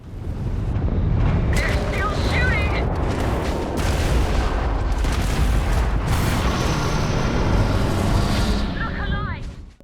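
In Starfield, a spaceship rams into enemy ships amid continuous heavy booms, blasts and rumbling explosions, loud and dense throughout, with brief laser-like zaps and chirps layered over the roar.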